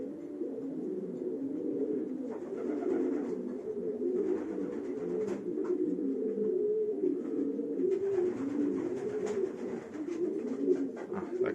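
Steady, overlapping cooing from a flock of pigeons in a loft, a continuous soft, throaty murmur with no speech.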